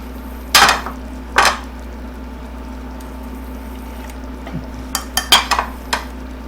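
Spanish rice spooned onto a plate, a few clinks of a spoon against the dish, then a quick cluster of lighter taps, close up over a faint steady hum.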